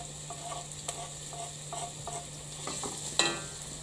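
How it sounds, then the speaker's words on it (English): Steady sizzling of chicken, garlic and onion frying in a pan, with regular light scraping strokes of stirring and a sharper clatter near the end. "I'm going to start off with my chicken, garlic, and onion. The sizzling sound."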